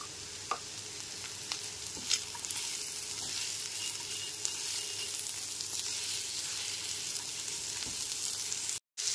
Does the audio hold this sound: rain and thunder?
no